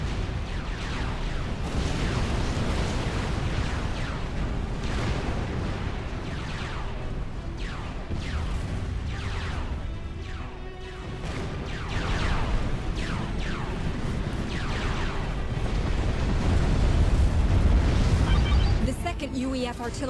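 Repeated booming explosions as UEF artillery emplacements are destroyed in a real-time strategy game battle, dense and continuous over rumbling combat noise, swelling louder toward the end.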